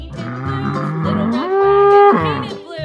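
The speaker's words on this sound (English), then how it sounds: "Bull." A bull moos in one long, loud, close bellow that rises in pitch and then falls away, heard alone over a steady low rhythmic backing beat.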